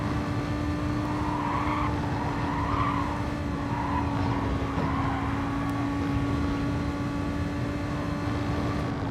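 A car drifting in the Gran Turismo Sport video game, a steady engine drone with repeated soft tire squeals rising and fading as it slides through corners, fairly quiet throughout.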